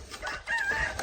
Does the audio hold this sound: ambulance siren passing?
no